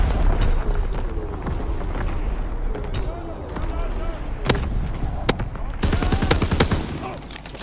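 Mortar rounds exploding in Call of Duty WW2 multiplayer, several sharp distant blasts and cracks over rumbling battlefield noise, with game radio voices and talk running underneath.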